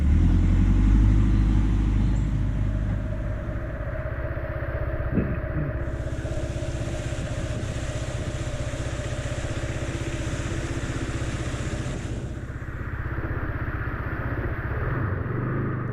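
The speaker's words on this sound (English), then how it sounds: "Waiting in the line. Some traffic jam. Local traffic jam in the local village." A motorcycle idles steadily up close while waiting in a local village traffic jam in Central America, a continuous low rumbling engine with slight clatter and no speech throughout.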